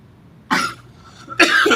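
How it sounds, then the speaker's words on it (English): Two sharp coughs from one person, close by, separated by a short pause, with near silence around them. "Let's cough a little bit."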